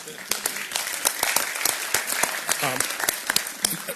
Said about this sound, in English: Well, we can clap for it.